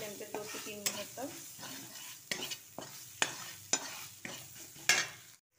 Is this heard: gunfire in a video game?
no